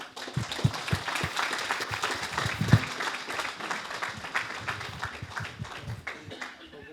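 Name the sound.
audience applause at awards ceremony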